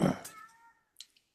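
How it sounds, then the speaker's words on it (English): A neighbor's cat lets out a short, loud yowl close by, followed by a faint trailing sound and brief quiet. "that stupid neighbor cat's over bothering my cat again. He's got the loudest, like, yowl."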